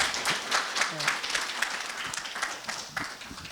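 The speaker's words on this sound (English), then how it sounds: "Give our speaker another round of applause" An audience claps for a speaker at a climate change talk, a moderately loud wash of scattered hand claps that slowly thins out, with a voice speaking briefly over it.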